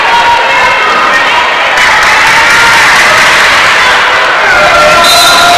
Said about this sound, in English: This is as good as any basketball crowd.